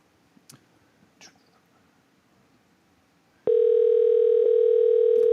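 A steady electronic tone on a telephone line for a radio call-in begins abruptly partway through and holds loud and unbroken to the end, after a stretch of quiet with a few faint clicks.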